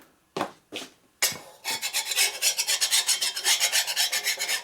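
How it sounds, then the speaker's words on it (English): Filing away a burr on a metal engine part from a 1947 Harley-Davidson EL Knucklehead 74ci motor: two short rasping strokes, then a run of steady, rhythmic file scrapes, close and fairly loud with no talking. "Don't forget to deburr your stuff."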